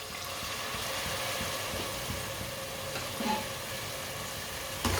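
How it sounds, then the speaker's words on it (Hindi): A pan of spices for a Punjabi turnip (shalgam) dish sizzles steadily over a raised flame after a splash of water is added, with a soft stirring clatter near the end. "थोड़ा सा पानी डाल लेंगे।"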